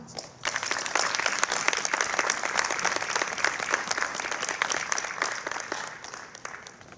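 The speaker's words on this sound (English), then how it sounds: "So if you would please give a big Urban League round of applause to our mayor" A crowd applauds the mayor at a ribbon cutting for the Urban League North Spring Community Center, bursting in suddenly and holding dense, sustained clapping before tapering off near the end.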